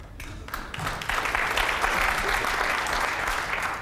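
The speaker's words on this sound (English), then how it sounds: "almost a courtesy applause from the crowd here" A pool crowd at the 2006 Mosconi Cup gives polite courtesy applause during a match between Mika Immonen and Mike Davis, a steady wash of clapping building after a brief quiet start.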